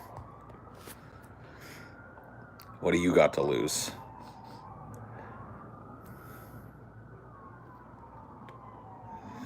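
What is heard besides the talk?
ambulance siren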